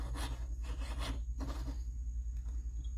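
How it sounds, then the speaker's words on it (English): Quiet, rapid rasping strokes of a fine jeweler's saw blade cutting metal for a ring, repeating in an even back-and-forth rhythm. "so we're back to sawing."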